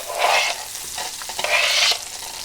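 Chopped onion sautés in a tablespoon of olive oil over medium-high heat, a loud close sizzle with two swelling bursts of stirring and spatula scrapes, no voices.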